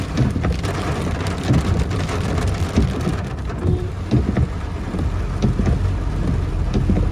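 Heavy rain pours down steadily over farmland and a waterlogged road, with low thunder rolling beneath the dense hiss of falling drops, close and continuous without any speech.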